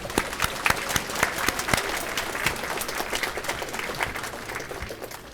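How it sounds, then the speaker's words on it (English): Steady applause from a room full of people at an elementary school 50th anniversary celebration, many hands clapping continuously at moderate volume with no voices on top. "Can we applaud them one more time?"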